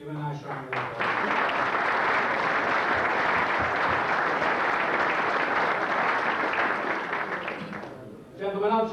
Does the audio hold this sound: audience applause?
yes